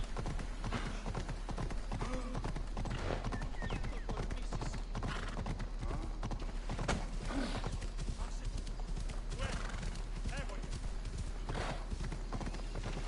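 Horse hooves clip-clop in a steady, continuous rhythm in Assassin's Creed Odyssey, close and prominent over a busy game soundtrack with occasional voices.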